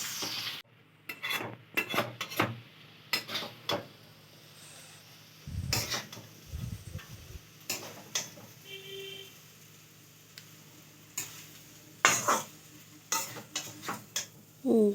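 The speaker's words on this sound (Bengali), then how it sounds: "চাউমিনটা সব সবজির সাথে ভালো করে নাড়িয়ে নিচ্ছে" Egg chowmein with vegetables is tossed and stirred in a pan, giving scattered scraping clicks and utensil knocks over a faint sizzle, close but fairly quiet, with irregular bursts of activity.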